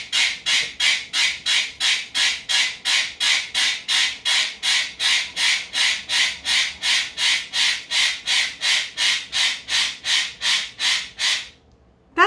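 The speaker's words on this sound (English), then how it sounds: "that interruption came from my parrot, Wazo, who is apparently very pissed off at" A pet parrot squawks loudly and insistently, a rapid run of about thirty harsh, evenly spaced calls close by that stops abruptly near the end.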